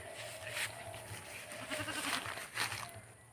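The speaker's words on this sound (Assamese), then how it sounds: "এই ছাগলীজনী পূৰা মানুহ নাথাকিলে কান্দি থাকে" A goat bleats faintly a few times against a steady outdoor background, fairly distant and soft.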